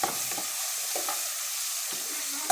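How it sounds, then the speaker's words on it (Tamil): Tomatoes frying in a pan are stirred with a few scraping strokes over a continuous close hiss of sizzling oil; no voices. "தக்காளி போட்டு நல்லா மிக்ஸ் ஆக்குறோம்"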